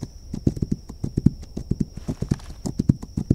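A horse in the video game This Land is My Land gallops along with quick, rhythmic clip-clop hoofbeats, close and steady, with a faint whinny and a constant high electronic tone behind it.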